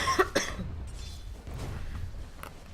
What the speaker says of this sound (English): Apparently, just water wasn't enough. I had to cough.